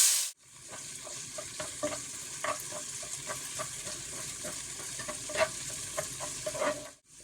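Tomatoes sauté in oil in a pan for a Kerala mutton biryani, giving a steady close sizzle broken by repeated scraping stirs, with no talking.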